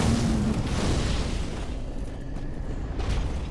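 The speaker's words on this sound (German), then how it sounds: "Die Zauberer lasst ihr einfach schießen." Sorcerers' spells exploding in Dark Souls 3, a dense rumbling blast that rolls on steadily and loudly with faint whooshing swells throughout.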